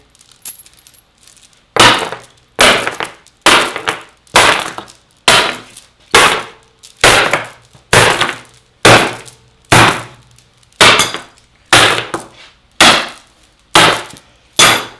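Metal chain repeatedly slammed against wooden cabinet panels to distress them, about fourteen loud, evenly spaced rattling clanks with a heavy wooden knock in each, alone without talk.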